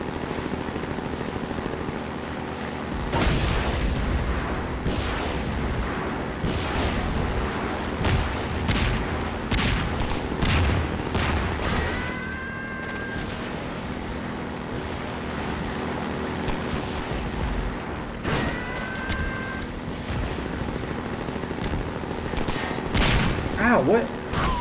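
Rocket launches and explosions in Half-Life 2, heavy booming blasts and whooshing bursts repeating irregularly over a steady rumbling game background, with occasional high whistling streaks.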